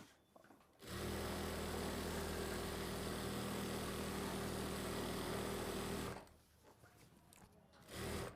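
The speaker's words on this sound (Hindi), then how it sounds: "तो सबसे पहले इस बूट से हम पैर की सिलाई लगा के देखते हैं लगेगी नहीं लगेगी।" An industrial sewing machine fitted with a presser foot runs in one sustained burst of about five seconds, a loud, even mechanical whir of stitching, with quieter handling noises before and after.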